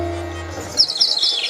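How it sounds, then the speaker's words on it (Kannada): Bright bird chirps trill in the second half of this scene from a mythological stage drama, following a low, drawn-out cattle moo. Both sounds are fairly close and clear, with no talking over them. "ಪಕ್ಷಿಗಳ ಇಂಚರ ನಲಿಯುತ್ತಿವೆ"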